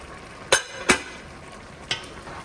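A lid set onto a pot of simmering vegetable stew gives a few sharp metallic clinks, two close together and a fainter one after, with no talk.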